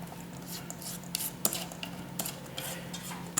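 Angel hair coleslaw ingredients being stirred in a bowl, with soft wet squishing and light utensil scrapes and clicks over a steady background hum, close and fairly quiet.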